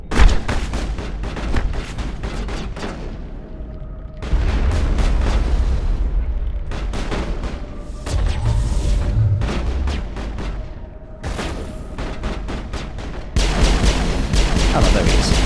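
Loud, sustained gunfire from a sci-fi firefight in Mass Effect 1 on the planet Therum, with rapid repeated bursts of shots and heavy booms that come in waves, separated by brief lulls.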